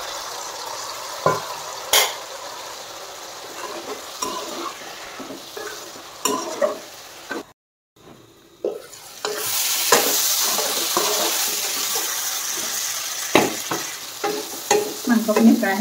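Duck meat frying and being stirred in a pan over a high gas flame, with a steady sizzle and repeated scraping stirs, briefly cut by a quiet pause before the sizzling surges back louder after hot water is splashed in.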